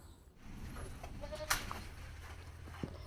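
Goats kept on a farm, being fed banana, jackfruit and avocado leaves, let out a few short bleats over steady low background noise, with one brief louder call midway.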